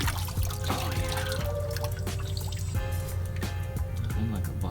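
A vapor-blasted metal part is dipped into a bucket of water, giving continuous sloshing, dripping and splashing over a steady low machine hum, with no talk.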